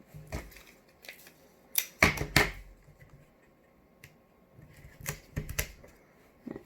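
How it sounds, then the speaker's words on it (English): Tape pressed and smoothed down by hand while a fidget toy is made, heard as a few sharp crinkling taps and rubs in short bursts, close and fairly quiet, with gaps of near silence between. "Then we're going to put more tape down in this corner here and this corner here."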